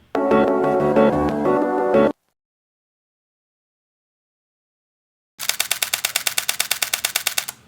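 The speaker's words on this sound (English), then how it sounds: "So next up is continuous shooting." After a short burst of music and a silent gap, a Nikon Z50 mirrorless camera fires its shutter in continuous shooting mode, a rapid, evenly spaced train of crisp, close clicks lasting about two seconds.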